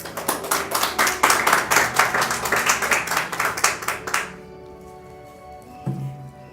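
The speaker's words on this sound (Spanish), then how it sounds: "Démosle un aplauso a Jesús" A church congregation claps in a rhythmic, evenly paced beat for several seconds, then stops abruptly, leaving a quiet room with faint sustained tones and a brief thump near the end.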